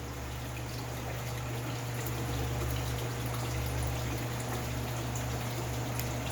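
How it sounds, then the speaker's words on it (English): Steady rushing and trickling water from an aquaponic grow-room drain siphon, flushing like a toilet through 1.5-inch drains, with continuous pouring and a low hum, close and unbroken. "It'll sound like a toilet when it's done flushing."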